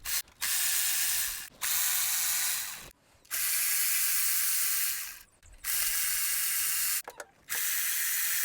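Ratchet working bolts on a Toyota Tercel oil pump gives close, loud bursts of rapid clicking, broken by short pauses as the handle swings back, with no one speaking.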